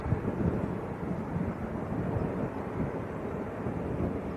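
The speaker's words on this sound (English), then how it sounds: "EasyJet in the background, not going full length." An EasyJet airliner at Manchester Airport, a broad low rumbling roar in the distance, steady throughout with wind buffeting the microphone.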